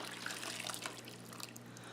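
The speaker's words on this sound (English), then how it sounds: "we are going to pour it directly over the meat and the bacon and the" Boiling sauce pours over beef, bacon and sauteed onion for a beef bourguignon, giving a steady, close liquid splashing and trickling sound throughout the short stretch.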